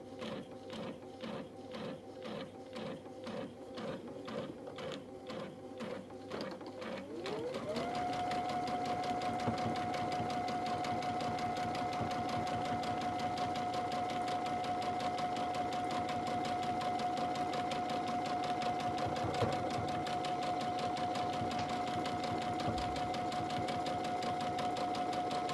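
A Brother sewing machine with a dual feed foot stitches steadily, starting with slow rhythmic needle thumps that speed up into a continuous, even motor hum lasting over fifteen seconds.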